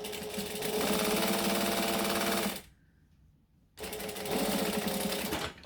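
A domestic sewing machine stitches in two rapid, buzzing bursts, with a short quiet pause between them as it reverses to backstitch, close and clear with no voices.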